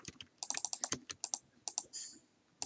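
Someone types on a computer keyboard while writing a Roblox Studio script, producing close, rapid and irregular key clicks in quick bursts, ending with a brief slide-like rustle.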